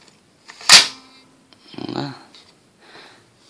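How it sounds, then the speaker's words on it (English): A car cassette player with no power is worked by hand as a tape is pushed in: one sharp, close mechanical clack, then a softer rattling slide of the mechanism and a faint later rustle. "that lever right there is when the cassette inserts and goes back"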